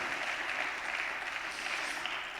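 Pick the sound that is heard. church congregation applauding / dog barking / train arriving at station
church congregation applauding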